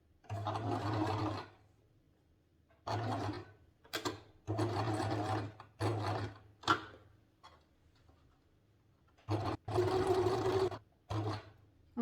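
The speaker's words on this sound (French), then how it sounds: "on va coudre au point droit." A sewing machine runs a straight stitch in repeated bursts of rapid mechanical whirring and ticking, separated by short quiet pauses, close and clear with no talking.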